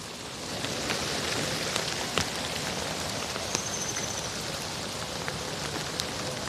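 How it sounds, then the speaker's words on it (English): Steady rain falling outdoors in the open, a dense continuous hiss with scattered louder drips and taps over it, fairly close and even throughout. "It's raining out in the open."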